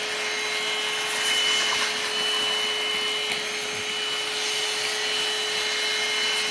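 A Prettycare W200 cordless vacuum cleaner runs close and loud as it sucks debris out of a laptop, its high whine holding steady with a constant pitched tone throughout.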